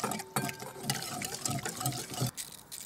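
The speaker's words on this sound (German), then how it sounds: "Da kann ich noch ein bisschen Wasser reingeben." Cold still water trickles and pours into a bowl of tempura batter for sweet-and-sour Thai vegetables, a close, steady liquid sound with faint kitchen clatter.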